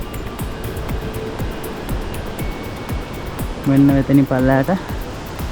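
The Bomburu Ella waterfall in Sri Lanka gives off a steady, broad roar of rushing water heard from nearby, with footsteps crunching over it and someone briefly speaking near the end.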